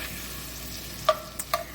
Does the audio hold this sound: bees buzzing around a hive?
no